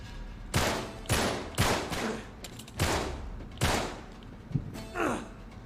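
Gunshots ring out in Uncharted 3: Drake's Deception, about eight sharp, irregularly spaced reports over a few seconds, each loud and punchy with a short decaying tail.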